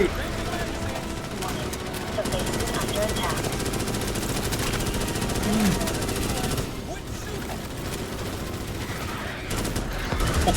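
Enemy gunfire in Starship Troopers: Extermination, a dense, continuous rattle of rapid automatic shots under a busy wash of combat noise, with a voice talking over it.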